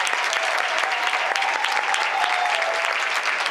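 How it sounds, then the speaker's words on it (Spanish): An audience at a Spanish-language talk applauds to welcome the speaker, a close, steady wash of many hands clapping that carries at constant loudness through the short stretch. "Así que la recibimos con un aplauso muy grande."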